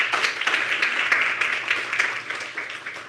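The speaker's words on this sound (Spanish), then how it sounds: "Eso, un gran aplauso." An audience at an academic talk applauds a student presenter, a dense, continuous wash of many hands clapping at a steady level throughout.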